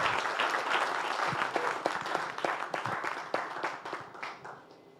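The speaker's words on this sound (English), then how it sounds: "Really appreciate a round of applause for Baba Jide" An investor summit audience at a health-tech event applauds after a startup pitch, many hands clapping together at first, then thinning to distinct individual claps and fading out.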